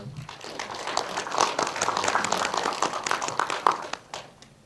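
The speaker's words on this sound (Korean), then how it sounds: "박수로 한번." An audience claps at the end of a film screening talk in Korea, a dense patter of many hands building for a few seconds, then thinning and fading out.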